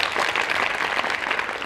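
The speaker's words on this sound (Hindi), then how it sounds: "जोरदार ताली बजाइए एक बार अपना" An audience at a lecture on moral values breaks into sustained, dense applause, a steady wash of many hands clapping without pause.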